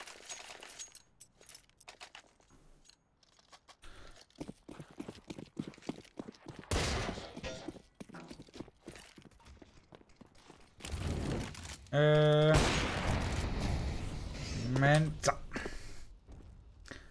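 Gunfire in Counter-Strike on the Mirage map during a competitive esports match: sharp rapid shots crackle in bursts and scattered single cracks, a dense volley louder near the end, under a commentator talking excitedly throughout.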